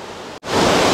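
Roaring river rapids at Cachoeira do Mutum in Amazonas, a loud, broad rush of churning water that cuts out for an instant and then surges back stronger and steady.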